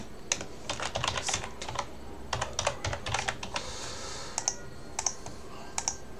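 Someone typing on a computer keyboard while entering text into an Excel spreadsheet, giving quick bursts of close clicking keystrokes with short pauses between runs.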